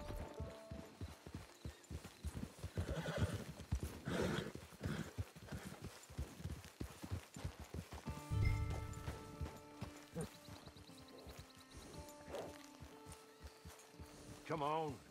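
Clip-clop of a horse's hooves with occasional whinnies in the Red Dead Online video game, steady trotting steps running throughout under a busy game soundscape with music and talk.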